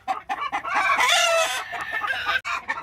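Several chickens cluck loudly and continuously, with a rooster's crow rising in the middle, close by and noisy.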